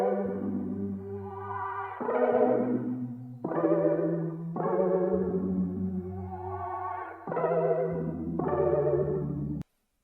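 A vintage R&B sample pitched up an octave and reversed, drenched in chorus and reverb, forms swelling, wobbly chord swells that rise and cut off in repeated phrases before stopping abruptly.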